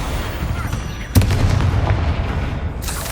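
Magical spell explosions in the Hogwarts Legacy video game, a sharp boom bursting out mid-clip over a dense rumbling background, with another burst near the end while a voice casts spells.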